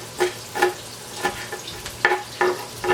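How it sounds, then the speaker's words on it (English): A knife chops food on a cutting board for turkey meatball pitas, with about seven sharp, evenly spaced taps, close and alone. "Or you can just like chop it like crazy."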